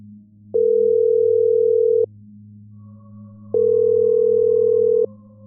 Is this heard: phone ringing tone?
yes